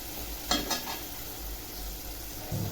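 Moong dal khichdi ingredients sauté in ghee in a pan, giving a steady close sizzle with a couple of sharp scraping stirs early on and a soft clink near the end, with no talking.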